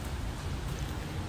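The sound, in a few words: rain falling in Kuwait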